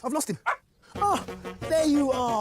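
A dog barks and yips briefly amid a man's excited speech, the short canine sounds tangled with the talking at close range.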